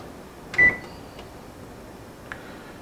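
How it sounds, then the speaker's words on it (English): Oven control panel beeping as it is preset to 375 degrees: a single short electronic beep rings out clearly, followed later by a fainter second tone, over a quiet kitchen background. "Gonna preset our oven"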